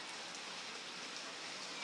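Steady, even rainfall hisses continuously, a soft wash of drops falling on surfaces with no voices.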